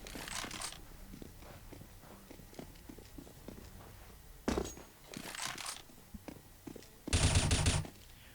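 Gunfire in a CS:GO pro league match, with a short burst early, a louder volley midway and a sustained close rapid burst near the end over constant footsteps and game noise.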